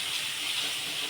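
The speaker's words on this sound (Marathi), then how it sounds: "पाणी टाकून" Water is poured into a hot pan of oil mixed with red chilli powder for an egg curry, giving a brief, steady sizzling hiss heard close up and alone.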